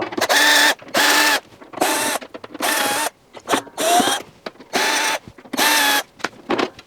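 Top retention bar being removed from a built-in integrated Bosch washing machine, loud bursts of a power driver or ratchet whirring in repeated short runs separated by brief pauses, close up.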